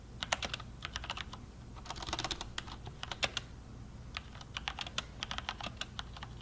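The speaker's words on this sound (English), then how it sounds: "First off, we have the reds." A mechanical keyboard with linear Cherry MX Red switches is typed on steadily, producing close, fairly muted keystroke clacks in quick irregular bursts with no voices.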